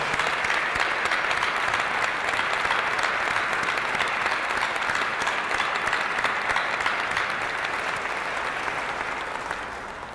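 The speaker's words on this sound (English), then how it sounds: "I would ask for a round of applause for our living heroes from the Second World War" A large crowd at a naval ship dedication ceremony gives sustained applause to Second World War veterans, a thick, even roar of clapping lasting about ten seconds before tapering slightly at the end.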